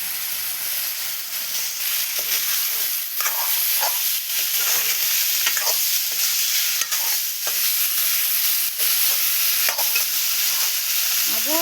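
Potatoes fry with spices, chili and salt in a pan during Bengali home cooking, giving a steady, close sizzle with occasional stirring scrapes and no talk.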